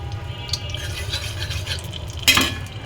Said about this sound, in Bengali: আর এখন ডিমটাকে আমি ঝুড়া করে